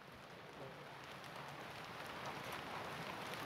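Steady rain falls outdoors as an even, dense hiss of drops on surfaces, continuous and moderately quiet, with no voices.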